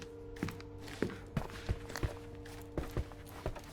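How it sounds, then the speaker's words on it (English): Footsteps on the floor above inside a house in the Sherlock Holmes Chapter One game, a slow, even series of about ten muffled thuds heard at low volume, with no talking. "I heard footsteps upstairs a second ago."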